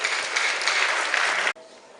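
Audience at a management lecture applauds, a dense burst of clapping that holds steady and then cuts off abruptly, leaving a quiet room.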